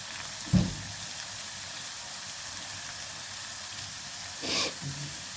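Potatoes frying in oil, a continuous soft hiss of sizzling in the background with two brief louder knocks or splashes, one early and one near the end.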